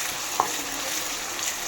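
Cumin and dried red chili paste fry in a pan for a South Indian chicken curry, giving a faint, soft, steady sizzle with a small clink of stirring near the start.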